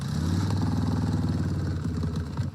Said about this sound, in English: I hear a rumble of a motorcycle that sounds a lot like mine in the background.